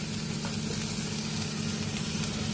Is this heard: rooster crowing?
no